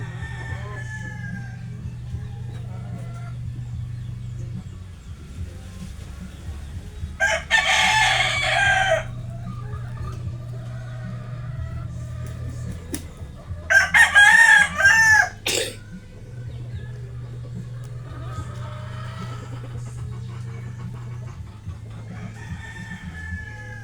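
White hatch gamefowl rooster crowing twice, each a loud, drawn-out crow several seconds apart over a low steady background hum.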